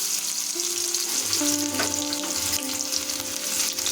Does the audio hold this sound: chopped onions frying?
yes